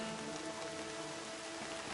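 Steady rain falls in the video game Horizon Zero Dawn, a soft, even patter that fills the whole short stretch with no voices.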